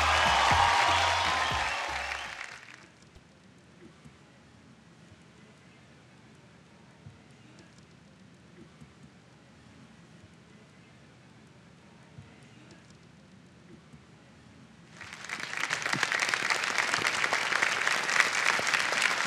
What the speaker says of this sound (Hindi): प्रत्युष के लिए तालियां, कैप्टन सैली के लिए तालियां